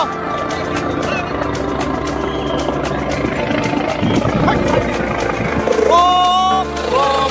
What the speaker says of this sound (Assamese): ফাইনেলি হেলিকপ্টাৰ আহি পৰিছে, এতিয়া লেণ্ডিং হ'ব।